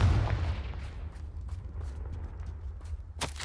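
A Confringo fire spell explosion in Hogwarts Legacy, a heavy booming blast at the start that rumbles and decays over a few seconds, followed by a sharp crack near the end.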